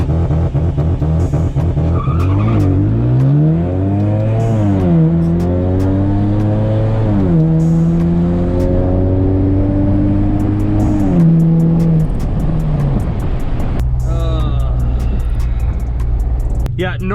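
A car launches hard and accelerates, engine revving up through repeated rising sweeps with gear changes and tire squeal, loud and close, while people talk over it.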